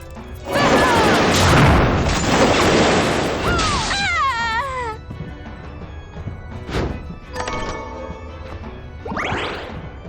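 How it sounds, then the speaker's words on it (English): A blast skill in Bloodstained sets off a heavy explosion, a loud crashing burst followed by sweeping, warbling game effects and smaller impacts that fade to quieter action sounds. "cause an explosion in a designated direction"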